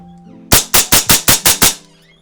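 A GHK gas blowback airsoft gun cycles rapidly, giving seven sharp, loud, evenly spaced reports in a quick burst over a faint steady background hum.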